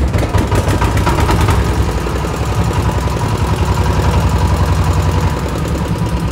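An old EM185 8.5 hp single-cylinder diesel engine runs close by, a loud, steady rapid chugging with a regular knocking beat that holds evenly from start to finish.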